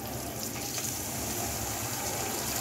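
Tomato paste cooks down with spice paste for a papad kalia, giving a dense, continuous hiss of frying oil throughout, close and fairly even, with no voices.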